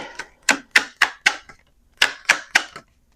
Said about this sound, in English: I will shuffle it back in